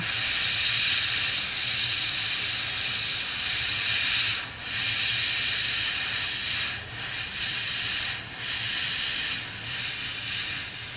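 An airbrush sprays ink in a continuous close, steady hiss that runs almost the whole time, dipping briefly a few times as the trigger is eased and pressed again.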